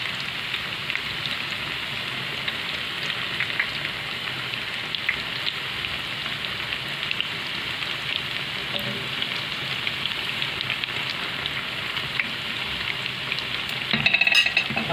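Cauliflower fries and browns in a pan of hot oil, making a dense, steady hiss for the whole stretch, with a short clatter of handling near the end.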